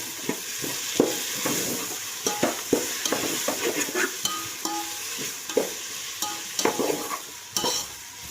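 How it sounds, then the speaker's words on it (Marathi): Tomato and onion sauté in a pan for a country-chicken curry, a constant close sizzle under a busy, irregular series of spatula strokes and scrapes, with no speech. "आता त्याच्यात मी टोमॅटो ॲड करते. आता तो चांगला परतून घेऊया आपण."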